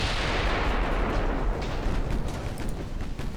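Naval 6-inch guns firing in the warship game Ultimate Admiral Dreadnoughts, heavy rumbling booms that overlap into a continuous loud barrage.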